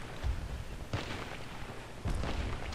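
Booming gunshots and explosions from the Battlefield Play4free video game, three heavy blasts spaced about a second apart over dense, rumbling battle noise.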